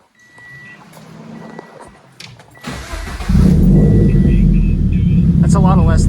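A Toyota 86 engine cranks and catches, then settles into a loud, steady rumbling idle close by, with faint beeping and a few voices earlier.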